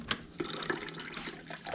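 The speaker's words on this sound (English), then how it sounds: "we're going to go mix it with agua, filtered agua by my AquaTrue" Filtered water from an AquaTrue filter pours into a blender for a smoothie, a steady close trickle with small splashes and drips, fairly quiet.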